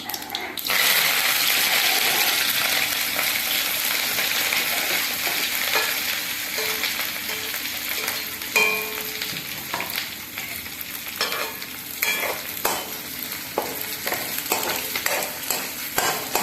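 Green chili and ginger sizzle and fry steadily in a hot pan, with occasional scraping and stirring clinks of a utensil throughout.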